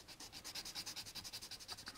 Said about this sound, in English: do our cross sanding again